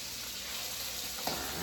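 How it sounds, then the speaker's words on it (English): Beef pieces sizzling in butter in a pan for a French beef roast, a steady, fairly quiet frying hiss with a faint brief clink near the end. "listening to the sizzle of the butter to where my pan is"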